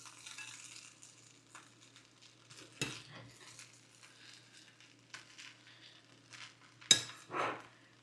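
A spoon stirring poha with fresh coriander in a home kitchen pan, faint scraping and soft scuffs with a few sharper metal knocks against the pan, over a steady low hum.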